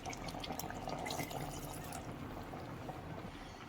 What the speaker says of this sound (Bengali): আগে থেকে সেদ্ধ করে রাখা যে আলুর জলটা ছিল সেটাকে আমরা স্ট্রেন করে রেখেছিলাম বাটিতে, এটা আমরা দিয়ে দিচ্ছি এবার মাংসটা